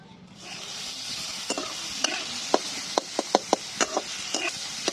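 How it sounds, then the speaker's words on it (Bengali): Onions hit hot white oil in a wok and set off a sudden sizzle that keeps hissing, punctuated by a regular series of sharp spatula taps and scrapes against the metal. "কেটে রাখা পেঁয়াজগুলো দিয়ে ভেজে নেবো একটু"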